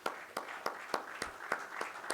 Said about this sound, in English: A big round of applause once again, ladies and gentlemen, for this fantastic panel of experts.